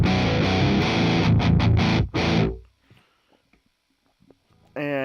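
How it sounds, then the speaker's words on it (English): A heavily distorted seven-string electric guitar churns out thick, loud rhythm chords for about two seconds, then cuts off, with quiet handling noises before a sustained note returns. "I'm going to use my 7-string and I'm going to play some heavy tones for you"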